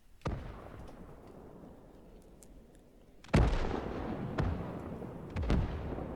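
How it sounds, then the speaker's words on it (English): A heavy artillery barrage in the World War II game Gates of Hell, aimed at American positions: one sharp blast, then a loud deep explosion with long rumbling decay and two more close booms over a continuous low battlefield roar. "A preparatory artillery barrage commences on the American positions."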